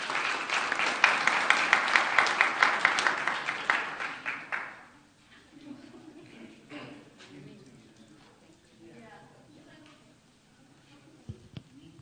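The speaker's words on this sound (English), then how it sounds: "Big round of applause, please." Applause at a city council meeting fills the room for roughly five seconds, dense and steady, then fades into quieter murmuring and scattered voices in the chamber.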